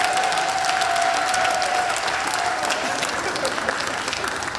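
A church congregation applauds and cheers for Sébastien during a revival service sermon. The clapping is dense and steady the whole way through, with a faint sustained tone over it.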